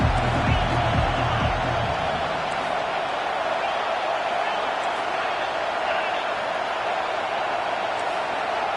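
A stadium crowd in the NCAA Football 25 video game roars for the defense, a steady, loud, dense wash of cheering that holds unbroken from start to finish.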